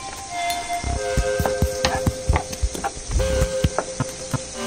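Food frying in oil in a non-stick pan for a meatloaf recipe, a steady close sizzle broken by scattered clicks and scraping taps, with no talking.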